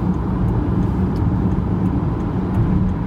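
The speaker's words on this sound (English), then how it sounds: "the traffic's a little crazy because it's 3 o'clock in the afternoon" Steady road traffic at three in the afternoon, a dense continuous rumble of passing cars and buses with occasional faint high hisses like air brakes, loud and constant throughout.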